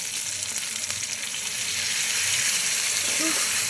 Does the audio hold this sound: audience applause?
no